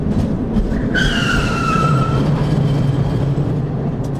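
Video game car swerving hard to dodge a trolley, tires skidding with a sustained tonal screech lasting about a second over a loud, steady engine and road roar.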